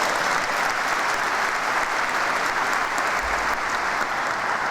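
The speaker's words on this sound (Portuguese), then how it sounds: "Aplaudamos a palavra santa, meus irmãos." Church congregation at a Pentecost gathering breaks into sustained applause, a thick, even roar of many hands clapping that fills the room with a loud, unbroken wash.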